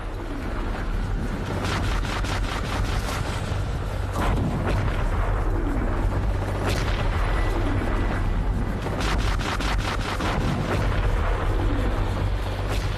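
Cannon fire and explosions from the battleship Schleswig-Holstein opening the Second World War, heard as repeated heavy booms and rumbling blasts over a continuous low roar, loud and dense throughout.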